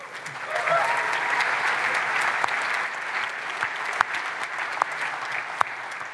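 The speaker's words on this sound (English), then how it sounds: "I knew that would draw an applause" An audience at Qt World Summit 2019 applauds, a sustained, even wash of clapping with a few sharper claps standing out near the end.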